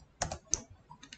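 Keystrokes on a computer keyboard, a few sharp clicks spaced apart over about a second, close and fairly quiet, with no talking.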